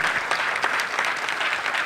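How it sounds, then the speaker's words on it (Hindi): Audience applause at a stage drama performance, steady dense clapping throughout with no voices over it. "आप जोरदार ताली बजाइए।"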